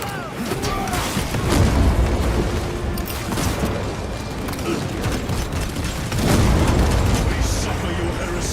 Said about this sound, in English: Crack grenade!